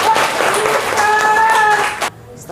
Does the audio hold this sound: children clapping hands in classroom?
yes